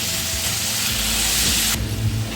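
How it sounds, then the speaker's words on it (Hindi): Potatoes fry over a low flame in two tablespoons of hot oil, giving a loud, steady sizzle. Partway through, the hiss drops sharply, and a low rumble runs underneath. "आलू को लो फ्लेम पे सॉफ्ट हो जाने तक फ्राई करेंगे"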